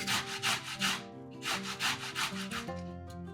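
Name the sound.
grating boiled carrot on a fine grater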